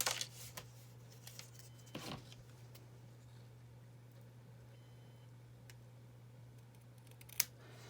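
Scissors cutting out a paper craft piece, a few soft snips and rustles against quiet background hum, with one sharp click near the end.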